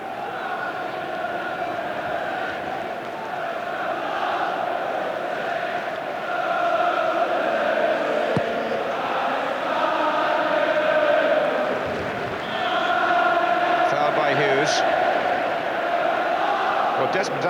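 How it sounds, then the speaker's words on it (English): Broad, steady roar of a large football stadium crowd at an FA Cup semi-final between Manchester United and Oldham Athletic, swelling in waves at a distance, with a commentator talking over it. "The crowd, at least, are rather more animated in this second half"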